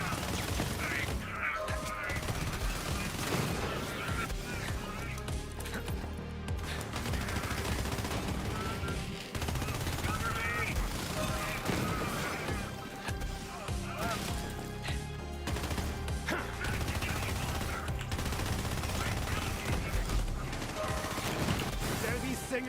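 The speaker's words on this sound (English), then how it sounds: "I love the noise it makes when you shoot Joe." Gunfire in the video game Borderlands 3, a dense run of shots and mechanical clatter lasting throughout amid other game sound effects, with a voice speaking at times.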